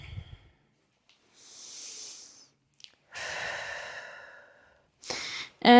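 Steady breath exhaled during a yoga flow for surfers, heard as several soft, airy sighs and breaths close to the ear, separated by quiet pauses, with no talking over them.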